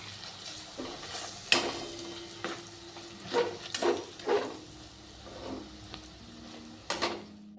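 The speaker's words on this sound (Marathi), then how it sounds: "ही डाळ अगदी बारीक गॅसवर अशी ढवळत राहायची आहे" Moong dal being stirred in a steel kadai over a low flame, with repeated scraping strokes of a spoon against the metal and a faint sizzle between them, close and unaccompanied by voices.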